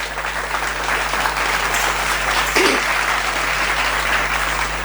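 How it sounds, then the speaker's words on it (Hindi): A ceremony audience claps in welcome for harmonium artist Shri Shrirang Tembe at an annual felicitation program, a continuous broadband wash of many hands over a low electrical hum, holding steady to the end. "उनका हम स्वागत करते हैं तालियों से"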